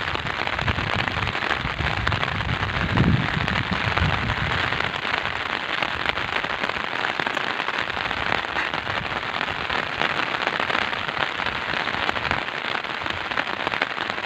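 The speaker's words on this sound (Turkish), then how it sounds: "Yağmur." Steady, loud rain hammers nearby surfaces in a village in early spring, a dense crackling hiss that stays constant throughout with no voices.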